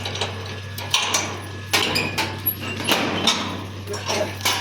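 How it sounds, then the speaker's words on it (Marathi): A gate being swung open outdoors in a village on a hot day, giving a series of clanks and knocks over a steady low hum while someone talks nearby. "आणि आता हे काका गेट खोलतात"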